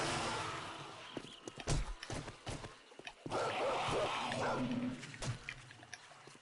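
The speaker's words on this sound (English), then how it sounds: "Oh my gosh, how many dogs are there?" Dogs attacking in the video game 7 Days to Die, with scattered thumps, scuffles and short snarling bursts over a low game backdrop, fairly quiet throughout.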